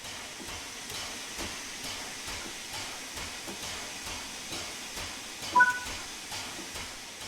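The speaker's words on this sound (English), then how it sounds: "Open the cylinder cocks to remove any water from the cylinders after the locomotive has been left standing." Open cylinder cocks on an LNER A3 Flying Scotsman steam locomotive in Train Sim World 4 give a soft, continuous hiss of escaping steam, faint and steady with a brief louder puff near the end.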